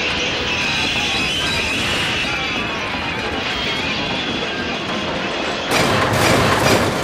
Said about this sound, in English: the brake van's brakes came hard on. The train began to slow down.